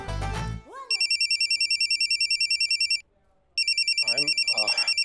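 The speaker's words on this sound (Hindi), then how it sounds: "बीच में फोन बजा" A phone rings loudly and close with a rapid electronic trilling ringtone, repeating in two long bursts separated by a short pause, after a brief snatch of voice at the start.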